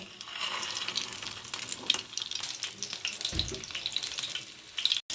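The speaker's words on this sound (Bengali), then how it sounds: "মিডিয়াম টু লো ফ্লেমে মাছগুলোকে ফ্রাই করতে হবে।" Batter-coated rohu fish fillets fry in oil and ghee in a pan over medium-low flame, making a continuous, dense crackling sizzle that stays fairly loud and steady, with a brief dip near the end.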